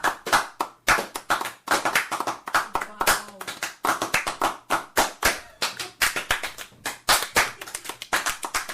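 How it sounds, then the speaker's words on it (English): Podcast hosts clap together in a studio, a dense run of sharp, close hand claps that go on steadily for several seconds with a few voices speaking between them. "I want everyone to clap for Kira though."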